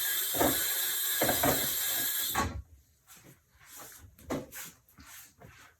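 Kitchen tap water runs steadily as hands are washed, a loud continuous hiss for a couple of seconds that cuts off and gives way to soft clatters and handling noises.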